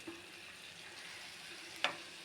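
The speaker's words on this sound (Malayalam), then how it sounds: "പിന്നെ ഇവിടെ തോരൻ ഇങ്ങനെ മറിഞ്ഞുകൊണ്ടിരിക്കുന്നു." Carrot, onion and drumstick-leaf thoran tossed in a pan, a soft continuous frying hiss with faint stirring scrapes and one sharp utensil clink near the end, fairly quiet and close.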